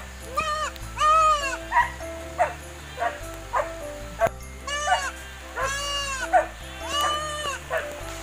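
Goats bleat repeatedly in a farm pen during a rainy season, loud and close, with several overlapping wavering calls and short gaps between them.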